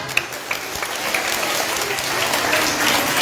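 Brief burst of crowd applause for a clown performer at a children's event, a few sharp early claps swelling into dense, steady clapping.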